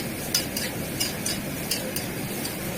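Soybean chunks and potatoes being stirred into frying spices in a pan, a spoon scraping and clinking in a steady rhythm of soft strokes over a low background sizzle, close and alone without talk.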